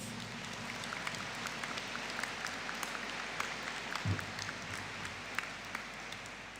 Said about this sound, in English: stand for a collective round of applause, please